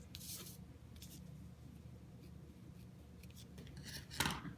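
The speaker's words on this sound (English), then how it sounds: "Trim off the ends." Scissors snip off ribbon ends tied onto a Halloween greeting card, a few short crisp cuts near the start and a sharper one near the end over a quiet room hum, with no speech.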